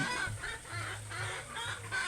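Several hens cluck in low, repeated bursts in a coop used for laying eggs, with brighter chatter from other birds mixed in, close by and continuous.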